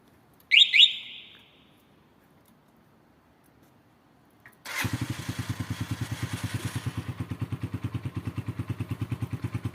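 A CG motorcycle engine starts by remote start kit after a short electronic chirp, then settles into a steady, rhythmic single-cylinder idle with evenly pulsing exhaust beats, moderately loud and close.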